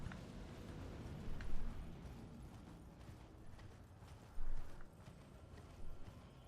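Horse hooves clip-clop steadily in Elden Ring, a mid-level patter of hoofbeats with a few louder thumps breaking through the ambient game background.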